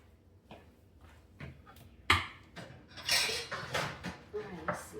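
A pan is fetched and handled in a home kitchen, with metal clanks, knocks and scraping of pots and cutlery, one sharp bang, then a busy cluster of rattles nearby.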